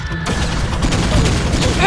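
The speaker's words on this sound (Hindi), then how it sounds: "ब्लू पल्स गन आक्रमण!" Cartoon blue pulse gun firing in an animated car series, a dense burst of rapid booming blasts and crackling impacts, loud and continuous.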